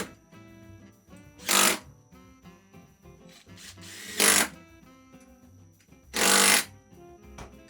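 Bolts being tightened on a Samsung ventless washer dryer motor stator, three separate bursts of a power tool or ratchet, each lasting about half a second, over faint background music and without talk.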